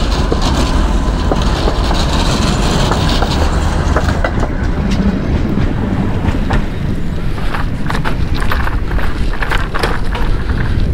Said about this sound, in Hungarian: hát pont elkaptuk a 41-es villamost is